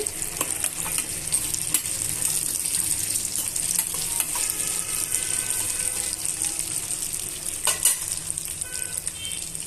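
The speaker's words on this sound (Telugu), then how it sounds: "ఇవన్నీ కూడా బాగా వేయించేసుకుందామండి" Peanuts with cumin and tamarind fry in a pan for a peanut chutney, giving a loud, continuous crackling sizzle with scattered stirring scrapes close up and no talking.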